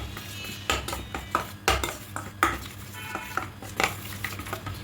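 Flour and sago dough being mixed in a bowl with a utensil, a run of irregular clinks, scrapes and knocks at close range, quiet and without talk.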